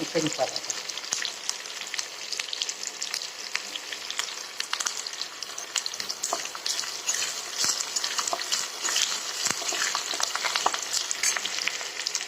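Onions frying in a pan on an induction cooktop for an urad and chana dal curry, a dense continuous crackling sizzle with scattered spoon clicks, close and steady throughout.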